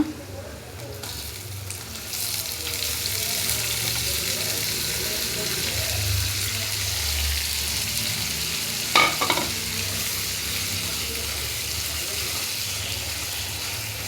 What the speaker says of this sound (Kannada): ಇವಾಗ ಈರುಳ್ಳಿ ಫ್ರೈ ಆಗಿದೆ ಇವಾಗ ಲೀವರ್ನ ಹಾಕೋಣ